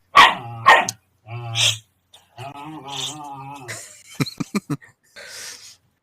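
A playful dog barks and growls in short, close bursts at home, with several sharp yaps near the end, while people talk over a live online chat.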